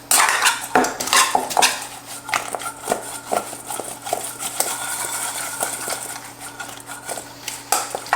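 Potato wedges tossed and stirred in a bowl for a meatball hoagie and chicken parm sub meal, giving repeated clattering knocks and scrapes of utensil against dish, steady and close throughout.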